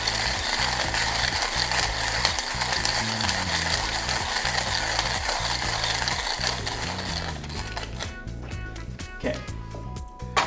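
A hand coffee grinder cranks through beans with a rapid, rhythmic ratcheting crunch, close and steady, then thins out into scattered clicks near the end as the grinding finishes.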